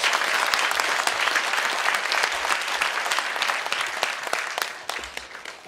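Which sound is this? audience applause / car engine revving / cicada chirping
audience applause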